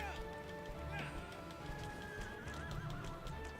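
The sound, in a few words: horse neighing in Shadow of the Colossus video game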